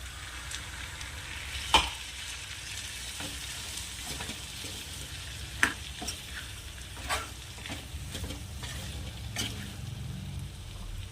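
Continuous frying sizzle of black chickpea masala with occasional sharp clinks and stirring scrapes; a faint watery splash blends into the hiss as water is added.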